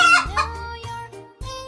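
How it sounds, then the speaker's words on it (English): A hen clucks and crows in a few short, tonal calls close to the microphone, one burst after another over under two seconds. "H for hen."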